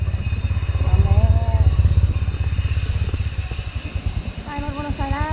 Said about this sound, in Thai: ไปรถมอเตอร์ไซค์แล้ว250 บาทค่ะ